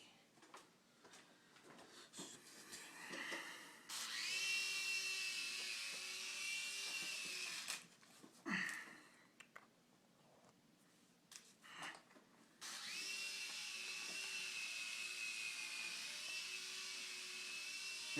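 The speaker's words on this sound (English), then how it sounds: "I'm going to bring it in for a hand landing. See, the Havoc helicopter." Air Hogs Havoc Stinger toy helicopter flying indoors, its small rotors giving a steady high whine in two long stretches, separated by a quieter gap with scattered knocks and handling noises.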